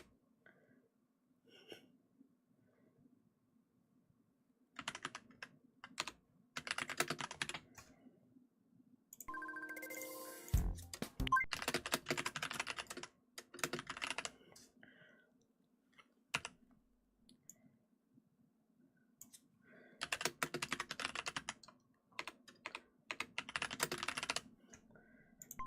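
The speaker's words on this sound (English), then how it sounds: "you can just hear my furious typing" Bursts of furious typing on a computer keyboard come in quick clattering runs separated by quiet pauses, close and fairly faint, with a brief tonal chime partway through.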